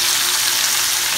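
Ribeye steaks hit hot melted butter in a large cast iron skillet, giving a steady close hiss of sizzling and frying with no talk.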